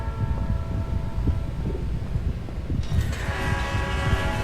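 A train rumbles steadily in a video game set in train rooms, with a brighter horn-like tone swelling in partway through and continuing to the end, loud and close with no talk.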